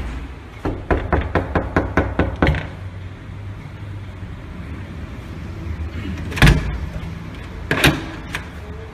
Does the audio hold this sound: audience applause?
no